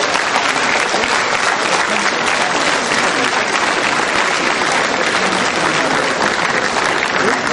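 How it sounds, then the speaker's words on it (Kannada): Audience at a Karnataka state film awards ceremony applauding, a dense, loud, continuous wash of clapping from a large crowd that holds steady from start to finish. "ಎಲ್ಲರೂ ಒಂದು ನಿಮಿಷ ಎದ್ದು ನಿಂತು ಚಪ್ಪಾಳೆ ಮೂಲಕ ಸರ್ಕಾರದ ಶ್ಲಾಘನೀಯವನ್ನ ನಮ್ಮ ಹೃದಯಪೂರ್ವಕ ಅಭಿನಂದಿಸಬೇಕು"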